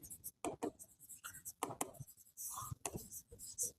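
Pen or pencil scratches on paper in short bursts while writing out accounting journal entries, close and quiet, with faint talk alongside.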